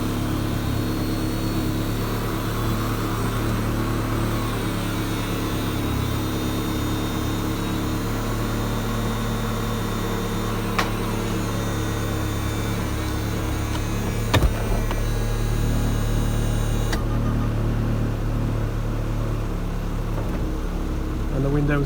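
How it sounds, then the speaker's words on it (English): The electric power windows and engine lid of a Ferrari 360 move, a steady mechanical motor hum with layered tones running throughout, plus a couple of brief clicks near the middle. "and the windows come up"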